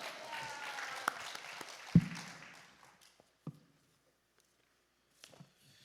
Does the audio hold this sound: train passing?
no